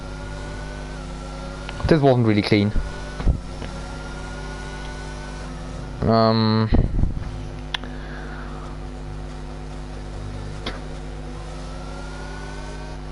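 Formula 1 race cars in the F1 22 video game at the Emilia Romagna Grand Prix, engines screaming up through the revs in two loud sweeping passes under a constant engine drone, with a commentator talking briefly.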